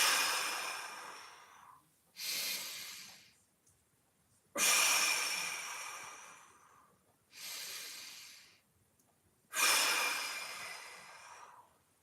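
Big deep breaths during a mobility exercise session: five slow breaths alternating inhale and exhale, each swelling sharply then tapering off, close and clear with quiet gaps between them.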